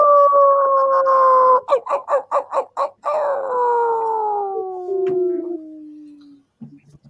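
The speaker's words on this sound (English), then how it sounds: "And my dog is now going nuts indoors" A dog indoors howling long, sliding wails broken by a quick burst of rhythmic barks and yelps, then a fading howl that trails off, close and loud.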